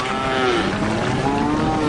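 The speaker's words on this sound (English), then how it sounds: "One cow gets scared, and that fear just translates to the whole herd, and they all take off." Cattle in a herd low and moo over one another, with long drawn-out calls overlapping above a constant rumbling background.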